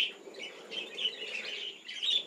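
Budgerigars chirp and chatter in repeated short bursts, a busy flock of small birds heard at moderate distance with no voices over them.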